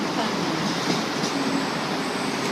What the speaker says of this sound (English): The Tangara arriving at platform number 2.